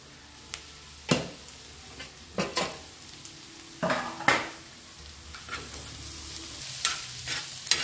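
Onion with a ginger, chili, garlic and coriander paste frying in a pan for an egg masala, a steady close sizzle broken by repeated scraping stirs and clinks of a spoon against the metal pan.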